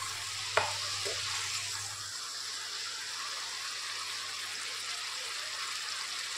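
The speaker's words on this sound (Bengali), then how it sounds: "মশলাটা একটু ভালো করে কষে নেব।" Spice paste for mocha chingri, a banana flower and prawn dish, fries in a pan as it is stirred, with one sharp clink at the start followed by an even, continuous sizzle and no voices.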